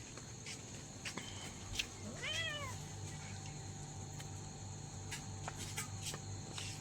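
A single drawn-out cat meow rises and falls once against a steady background hum and faint insect chirping.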